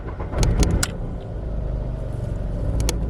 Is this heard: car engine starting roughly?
yes